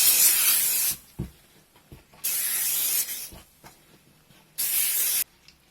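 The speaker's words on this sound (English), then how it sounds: "I'm using this spray starch I've had around" Three sharp bursts of spray hiss from an aerosol can of spray starch, each lasting under a second, separated by short quiet gaps with faint handling noises.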